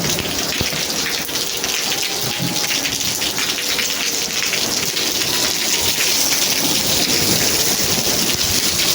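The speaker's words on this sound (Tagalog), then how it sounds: "Grabe, lakas ang ulan." Heavy rain pours steadily and loudly at a beach resort in Batangas, a dense hiss of drops drumming on surfaces, with no voices.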